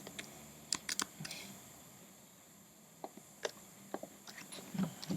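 Keys tapped on a computer keyboard during a programming session, including a Ctrl+C shortcut: a few faint, scattered clicks in a quiet room, no talk.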